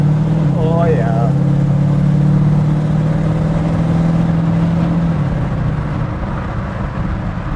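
A 1933 Ford three-window coupe hot rod built by Outlaw Performance drones steadily while driving, its loud engine hum holding through the clip as a voice speaks briefly near the start.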